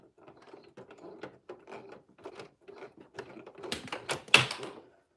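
Handwheel of a serger sewing machine being turned by hand, giving a run of soft mechanical clicks and ratcheting ticks that grow louder and sharper toward the end, close up with no talking.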